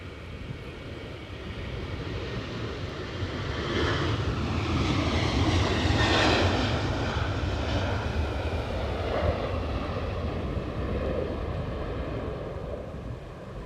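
A Sun Express jet airliner departing Edinburgh Airport: a broad, distant engine roar that swells to a peak midway and holds steady, with rumble and hiss carried on the wind.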